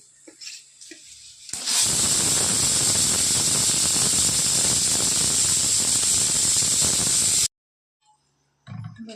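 A pressure cooker of mutton gravy with green-chilli kharda, done after four whistles, releases steam in a loud, steady hiss that lasts about six seconds and then cuts off abruptly, with faint kitchen noises before and after.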